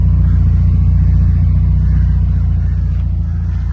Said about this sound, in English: Yeah, you can hear the exhaust sound from the muffler here.